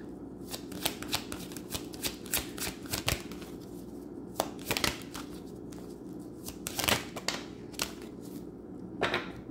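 A deck of tarot cards is shuffled by hand, a steady run of close, crisp riffles and flicks with sharp card snaps recurring through the whole stretch, with no voice over it.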